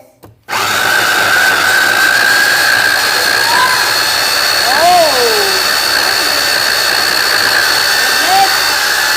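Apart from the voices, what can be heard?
blender blending Oreo shake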